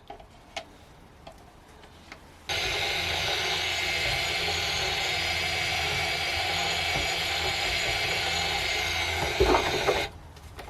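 A blender runs steadily for about seven and a half seconds, mixing cold process soap batter in a full container, starting abruptly and cutting off cleanly with quiet handling noises before and after.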